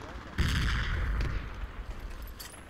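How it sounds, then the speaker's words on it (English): A friendly grenade goes off in a military shooter game, a sudden loud close blast that rolls into a long rumbling decay, with scattered game noise and faint voices after it. "Friendly grenade, close spot."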